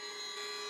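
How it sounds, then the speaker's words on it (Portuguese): A DeRoss RS rotary sander running without dust extraction gives a steady, even motor whine with a high tonal hum, heard alone and close for under a second. "Este é o barulho da DeRoss RS sem extração de poeira."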